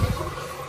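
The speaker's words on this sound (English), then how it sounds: "turn off the water, like so, and flush the toilet" A standard toilet with its water supply shut off is flushed, giving a brief, close rush of water that starts strongly and then tails off into a soft wash.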